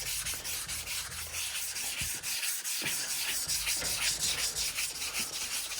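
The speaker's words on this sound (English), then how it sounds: "it sands off the high spots and gets rid of the black coloring there" Hand sanding of dry guide coat on a Peterbilt 359 body panel during restoration prep, a continuous close abrasive scrubbing in steady back-and-forth strokes with a brief pause, no speech.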